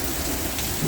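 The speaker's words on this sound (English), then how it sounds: "You can hear the thunder off in the background." Heavy rain drums steadily outside an apartment door while a low rumble of distant thunder rolls underneath, a dense continuous wash with no voices.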